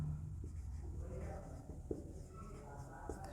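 Pen writing an accounting format by hand on paper, faint scratchy strokes with a few light taps, under a low steady background hum.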